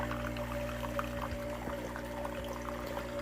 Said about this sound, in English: you can fill it up separately or you can pour it in